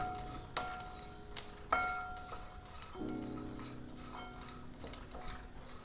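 Cumin seeds and grated coconut dry-roasted in a pan and gently stirred, heard as intermittent metal spatula clinks and scrapes against the pan over a faint background, close and quiet, with no talk.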